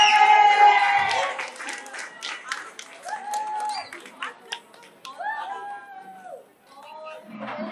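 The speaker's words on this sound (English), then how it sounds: "Let's just clap and scream." A crowd at a book launch clapping and cheering, with dense claps and shrill voices loud at first, then thinning into scattered claps, whoops and chatter.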